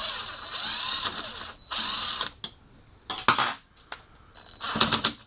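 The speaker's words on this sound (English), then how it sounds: "that'll just carve that mortise out." Mortising machine cutter carving a mortise into a door edge for multipoint lock hardware, loud harsh grinding bursts that start and stop several times, close by, with short quiet gaps and a clatter between cuts.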